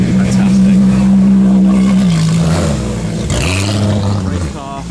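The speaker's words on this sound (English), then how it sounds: "Race car." A non-road-legal track car such as a Ferrari FXX K or Aston Martin Vulcan roars loudly and close at a hill-climb event, a sustained high engine note shifting pitch as it revs and passes.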